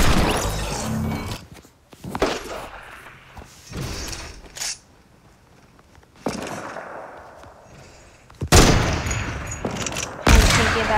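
Automatic gunfire in a first-person shooter game rattles in loud, close bursts, broken by short quiet gaps and sharp impacts.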